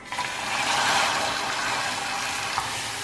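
A pan of sugar syrup bubbles and sizzles as it begins to caramelize, a dense, bright, hissing crackle close by that holds steady for a few seconds with a small clink near the end, no voices.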